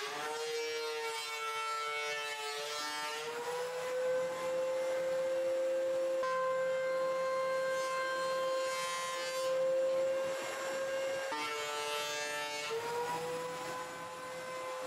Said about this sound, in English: The next step is to use the planer to take off any excess resin.